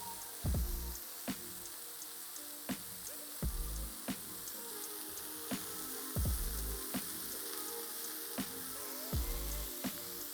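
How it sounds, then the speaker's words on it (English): Bacon cheeseburgers with cheese on top cooking in a pan, a steady close sizzle with crackling pops and occasional sharp spits throughout, heard alone without talk. "So in this stage, we're gonna put the cheese to our burgers. And we're gonna let it cook."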